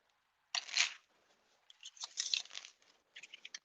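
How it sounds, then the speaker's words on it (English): A tarot deck being shuffled up close, heard as three crisp bursts of riffling and sliding cards separated by short quiet pauses, with no talking. "Give this a nice shuffle for you."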